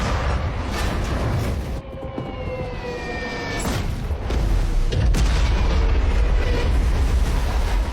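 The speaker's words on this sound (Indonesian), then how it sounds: "Ledakan itu menciptakan gemuruh yang bahkan terdengar hingga ke pemukiman" Deep booming explosions from a surprise attack on a parked fleet of ships roll over a constant noisy din, with a wailing siren-like tone rising midway and a heavier blast building toward the end.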